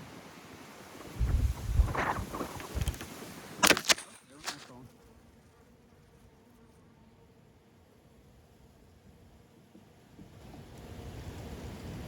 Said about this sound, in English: you can still hear me with all this wind